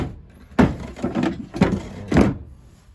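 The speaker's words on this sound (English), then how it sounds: "For the drawers, you just kind of want to pick them up before sliding them out. Just kind of undoes the latch." A drawer in a 2005 Jayco Jay Flight 31BHS travel trailer unlatches and slides out, making a series of close wooden knocks and rumbling slides in about three bursts.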